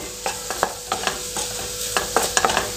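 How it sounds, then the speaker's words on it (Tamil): Coriander leaves, onion and tomato being stirred together in a pan, with repeated scraping strokes over a soft, steady sizzle, close and fairly loud, no voices. "மல்லியிலையும் நம்ம வதக்கிக்கிட்டு இருந்த வெங்காய தக்காளி கூட ஒன்று சேர நல்லா மிக்ஸ் பண்ணி கொடுத்துட்டாங்க"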